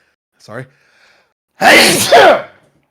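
A short intake of breath, then a loud, close sneeze in two bursts, with nobody talking.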